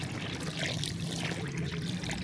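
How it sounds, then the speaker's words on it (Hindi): Water is poured into a brown dirt texture mix for making giant slabs, a soft continuous trickle and splash that flutters in strength for a couple of seconds with no talk. "यहाँ पर हम लोग वाटर ऐड करेंगे।"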